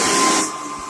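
A vacuum cleaner with a pull-down switch is heard running as a steady, loud, broad hiss with a faint whine, close by, easing slightly halfway through the short burst.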